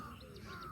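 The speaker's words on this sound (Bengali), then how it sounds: "কাকির ডাক" A single short crow caw, faint and distant against a steady outdoor village morning background.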